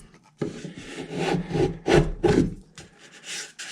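Sanding along the edge of a wooden acoustic guitar end wedge makes close, raspy rubbing strokes in short uneven bursts with brief pauses between them.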